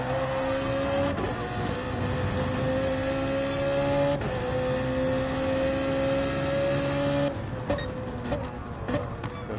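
Racing-car engines from a sim racing game at the Catalunya circuit, a BMW Z4 running in the slipstream of an Audi R8, hold a steady droning whine that rises gradually, with a brief clattering burst near the end.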